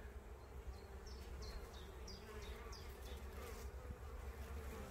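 Honeybees buzz steadily around a beehive outdoors, a dense continuous hum with a few individual bees droning closer as they pass.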